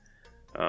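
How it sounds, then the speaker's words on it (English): A frog croaks outdoors in a single short, raspy call that comes in strongly at the end, preceded by faint background tones. "Sorry, there's a frog outside."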